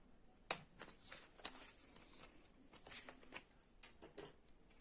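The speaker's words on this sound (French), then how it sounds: "n'hésitez pas à prendre votre paire de ciseaux" Scissors trim design paper in a paper craft project, giving quiet, close snips and crisp paper rustles in an irregular run of short sharp bursts, heard alone.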